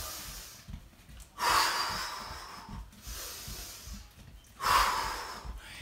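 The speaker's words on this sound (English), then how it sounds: "Deep breath." During a kickboxing workout, two deep, forceful breaths are drawn and released close to the microphone, each a loud airy rush about three seconds apart, with quieter breathing and faint thumps between.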